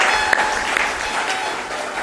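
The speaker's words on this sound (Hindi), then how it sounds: "ताली बजाइए इनके अभिनंदन में।" Dense audience applause at a Hindi religious discourse, a short burst of many hands clapping together at close range, loud and steady, with a voice faintly audible underneath.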